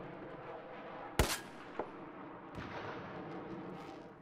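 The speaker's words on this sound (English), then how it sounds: "I'm aiming at each wall to lock in the range each time, and my shots are all detonating exactly where I want them to" XM25 airburst rounds from Battlefield 4 detonate as one sharp, loud blast followed by two lighter bursts, over a constant rumble of in-game ambience.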